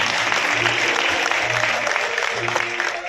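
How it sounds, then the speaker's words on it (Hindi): Crowd at a BJP rally in Nasirpur, Dwarka, clapping loudly to welcome a politician onto the stage: a close, dense burst of applause over low background hum. "जोरदार ताली बजा करके स्वागत करें।"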